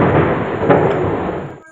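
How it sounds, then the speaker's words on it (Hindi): A thunder clap sound effect in a dramatic narrated story: a loud, rumbling crash that holds for over a second and then cuts off abruptly, heard alone without speech. "तभी जोर की बिजली कड़की।"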